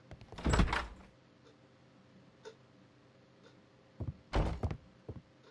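A door opens in a Sherlock Holmes video game: a soft thunk and creak, then quiet, a faint tick, and later a second burst of clunking door noise, all fairly quiet.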